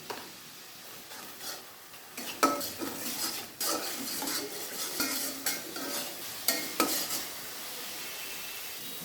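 A spice paste of chili powder in about one and a half tablespoons of oil is stirred in a pan for eggplant fry, with a spoon scraping and clinking irregularly over a soft sizzle. No one speaks.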